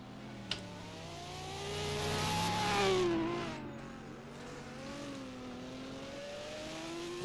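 A time attack race car at a Supercar Sunday event sweeps past with a rising then falling engine note, swelling loud as it nears and fading away, with no one speaking.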